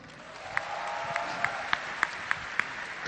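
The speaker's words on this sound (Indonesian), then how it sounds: "Tepuk tangan dong." A live audience at a comedy roast applauds: a continuous bed of many hands clapping, with a few sharp, louder claps standing out at fairly regular intervals as the ovation carries on.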